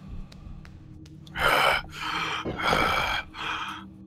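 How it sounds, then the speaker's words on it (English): Heavy mouth breathing from the character Torque in the horror game The Suffering, a few loud gasping breaths in and out spaced about a second apart, close and alone. "You can just hear Torque breathing."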